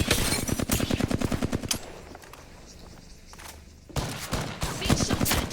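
Rapid automatic gunfire bursts from the video game Apex Legends, loud and close, with a brief quieter lull in the middle before a second stretch of heavy shooting.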